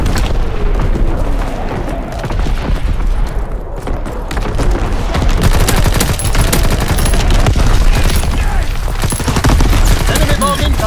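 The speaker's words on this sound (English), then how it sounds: "Incoming enemy artillery!" Enemy artillery bombardment in the Call of Duty WW2 game: a loud, continuous barrage of booming blasts mixed with rapid gunfire, dense and close throughout with no pauses.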